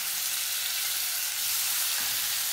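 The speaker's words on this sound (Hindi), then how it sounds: "अब हमने जो मीडियम दो मीडियम साइज के प्याज चॉप किए थे, अब इस पे हम वो डाल देंगे" Two medium chopped onions dropped into hot oil with crackled cumin for arhar dal tadka, giving a dense, loud, steady sizzle and frying hiss up close, with no speech.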